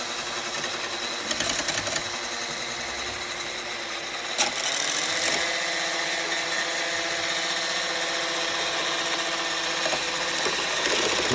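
About 200 grams of double cream is whipped for a homemade cheesecake with a steady, whirring electric mixer motor running close and continuously, its pitch wavering slightly with a few brief knocks against the bowl.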